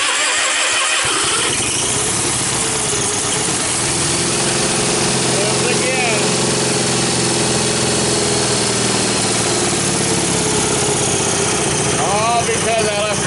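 A Cub Cadet 1720 lawn tractor engine runs loud and steady outdoors for the whole stretch after a brief start, its even drone shifting slightly in pitch, with occasional voices over it.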